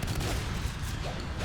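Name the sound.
shotgun fire in Natural Selection 2 video game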